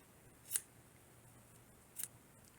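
Scissors snipping leftover crochet yarn: two faint, quick, crisp snips in a quiet room, about a second and a half apart.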